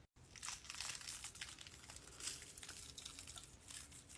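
Soft, close crinkling and sticky peeling as a special effects makeup prosthetic is pulled off skin, quiet and continuous with small crackles and no talking.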